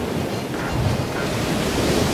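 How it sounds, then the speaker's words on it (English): Rough seas and gusting wind roar steadily in the Drake Passage, a dense, continuous wash of surf and wind noise around a rolling ship with no voices. "The sea became rough, and the ship started rolling with the building swells."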